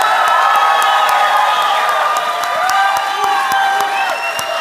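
A crowd at the Big Wave Challenge Awards show, a surf industry ceremony, claps and cheers steadily, with whoops and shouts rising above dense applause throughout.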